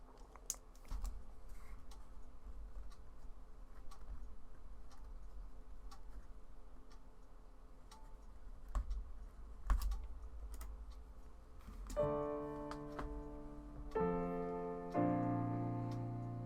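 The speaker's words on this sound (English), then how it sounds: "like a machine, my fingers start to press the keys" Steady computer keyboard typing runs as a continuous patter of soft key clicks over a quiet room tone, joined near the end by swelling musical tones.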